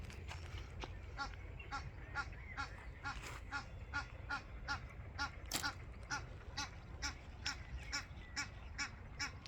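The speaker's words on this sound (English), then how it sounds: "The duck's really annoying." Duck by a carp fishing spot on a lake, giving a long run of regular quacking calls at a steady rhythm, fairly close and loud over a constant low background rumble.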